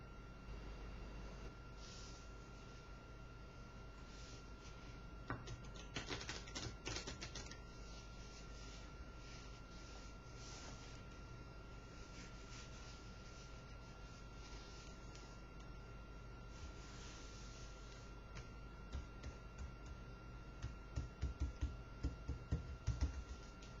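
Playing cards are riffled in a push-through false shuffle at normal speed: quick papery flutters and soft clicks. They are faint against a steady background hum and grow into sharper taps near the end.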